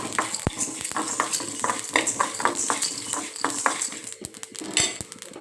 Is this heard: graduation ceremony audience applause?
no